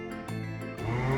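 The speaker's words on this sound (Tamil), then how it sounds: "மாடு எப்படி கத்தும்னு தெரியுமா?" A cow on a farm moos, a low, drawn-out call that swells in loudness and deepens toward the end, close and clear with no talking over it.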